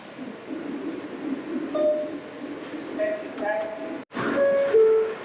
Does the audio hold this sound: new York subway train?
yes